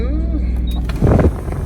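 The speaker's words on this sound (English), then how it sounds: "let's see this air conditioning in action" Car air conditioning blowing after being switched on, a steady broadband whoosh of airflow filling the cabin, with a louder gust about a second in and a person talking over it.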